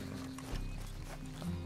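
Horse hooves in Red Dead Redemption 2, soft clip-clop steps at an easy pace, faint and somewhat distant over a low background hum.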